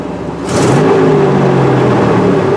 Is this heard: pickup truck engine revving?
yes